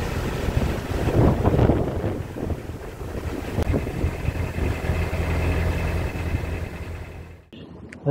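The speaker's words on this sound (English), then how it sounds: "wind is not dying down" Strong storm wind buffets the microphone outdoors in Marple, a steady loud rushing roar with low rumble that holds throughout, cutting out abruptly near the end.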